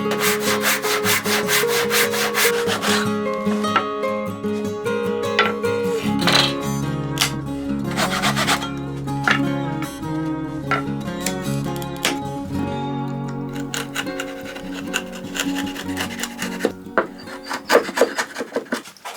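Hand-cutting and cleanup of wooden cupboard door joinery: close, rhythmic rasping and scraping strokes of a hand tool on wood, repeating steadily with sharper clicks near the end and no talk.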